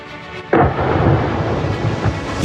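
A heavy boom of explosions in occupied Kakhovka bursts in, followed by sustained low rumbling and further thudding blasts, distant and rolling, with no voices.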